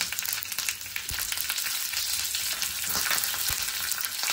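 Sesame seeds, green chillies and curry leaves sizzle in hot tempering oil with mustard seeds for dhokla, a loud continuous crackle and spatter with occasional stirring thuds, no voice.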